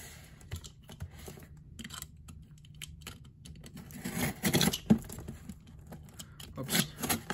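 A Priority Mail package is opened by hand: papery tearing, scratching and crinkling in scattered short bursts, growing louder and busier toward the middle and end, with no voices.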